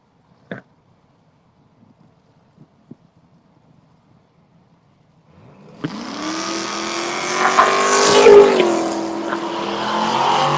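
Drag racing cars launch and accelerate down a drag strip, a loud roaring engine sweep bursting in after several seconds of near silence with a few faint knocks, then building and holding steady to the end.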